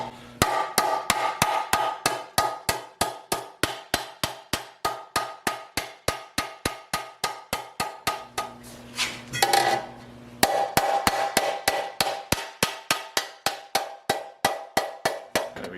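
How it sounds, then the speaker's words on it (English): Rapid, steady hammer taps on sheet metal while fabricating a car's rear inner rocker panel, each a bright ringing clink, continuing for a long stretch with a short pause midway. "You'll hear the hammer tone change."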